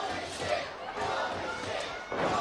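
Wrestling crowd at an indie show cheering and shouting in a steady roar, with commentary over it.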